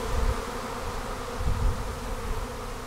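A honey bee swarm hums and buzzes steadily up close, a dense low drone with a couple of louder swells as bees pass near.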